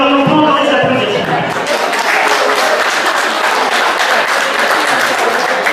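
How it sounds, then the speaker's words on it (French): A crowd at a youth football tournament applauds the winning team with loud, dense clapping that runs steadily throughout, close and full, with voices mixed in at the start. "On peut encore les applaudir."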